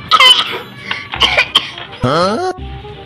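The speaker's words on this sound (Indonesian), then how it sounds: "aku lagi batuk" Coughing from a young Indonesian speaker who says he is sick, several harsh close bursts in quick succession mixed with throat sounds and voices talking around them.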